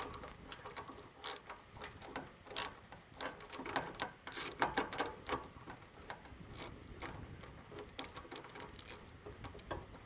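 A long socket wrench with a 1/2 inch socket ratchets on a bolt under a mower deck, giving faint, irregular clicking bursts in a quiet space.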